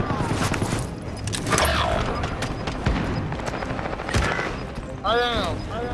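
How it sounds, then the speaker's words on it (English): Gunfire rattles through combat in the military shooter Call of Duty: Modern Warfare. Bursts of automatic fire and sharp single shots mix with booms and a chaotic battlefield din, and radio-style voice chatter comes in near the end. "I'm under fire."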